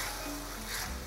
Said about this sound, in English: I'm gonna just deglaze the pan using a wooden spoon.